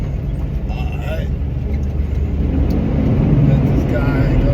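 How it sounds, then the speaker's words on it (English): Road traffic heard from inside a moving car, a steady loud engine and tire rumble that swells slightly as vehicles pass, with no voices over it. "We got a little bit of traffic."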